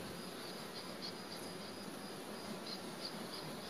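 Carpathian honey bees crawling over a hive frame sealed with light honey comb, giving a steady, dense buzzing hum that holds evenly throughout with no voices.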